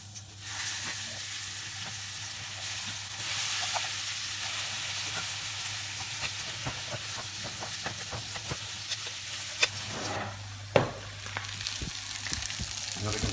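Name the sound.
rabbit saddle parcels frying in butter in a pan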